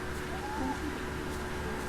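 Birds in the video game Hitman 3 give a soft low hooting call, a brief owl-like coo heard faintly over a steady ambient game background.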